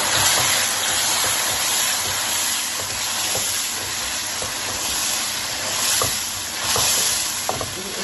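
Five tomatoes frying and being stirred into onion, ginger and garlic masala in a pan for mutton dum kebab: a steady close sizzle and hiss with occasional scraping stirs, no talk.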